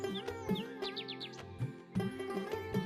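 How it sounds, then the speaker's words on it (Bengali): Myna and magpie-robin calls ring out beside a rural field with a mud house, repeated chirps and short whistled notes rising over a steady droning musical background in a cartoon scene. "মাঝে মাঝে শালিক আর দোয়েল পাখির ডাক ভেসে আসছে।"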